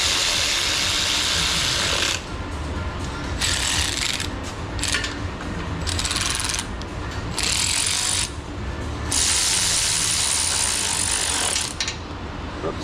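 A tool clicks repeatedly while transmission bolts on a ZF 8/9-speed automatic are tightened, rapid ratcheting bursts separated by short pauses, close and fairly loud.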